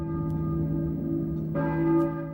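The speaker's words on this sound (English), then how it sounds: "I hear a church bell, I think." A church bell tolls in the foggy town of the Silent Hill video game, one resonant, sustained ring that swells and hangs in the air with no talking over it.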